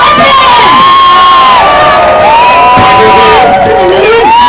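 A large crowd at an outdoor election rally for a presidential candidate at COEX in Gangnam, Seoul, roars and cheers continuously and loudly, with shouts and whoops rising over a sustained din.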